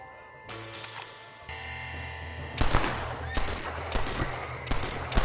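Gunfire in the Western video game Red Dead Redemption, played on an iQOO Neo 9 Pro phone: several sharp, loud shot bursts in quick succession over a droning musical score, with brief game voices.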